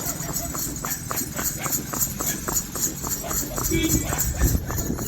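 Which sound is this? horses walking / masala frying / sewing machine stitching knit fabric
horses walking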